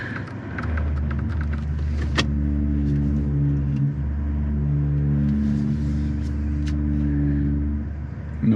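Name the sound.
Toyota Tacoma truck crawling off-road in 4 low, first gear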